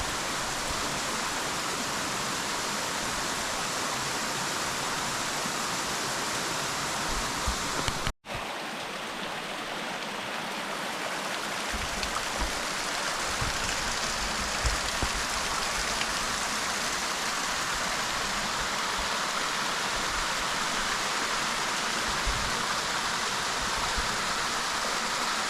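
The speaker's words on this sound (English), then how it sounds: "And listen to the water." Water rushing steadily at Twin Waterfalls near the Hoosac Tunnel, a continuous broadband wash of flowing stream water, close and even throughout with one brief dropout, no voices.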